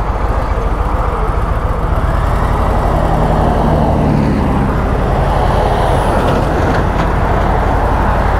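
Cars stream past on a busy road, a loud, continuous wash of tire and engine roar with no gap in the traffic, heard up close throughout.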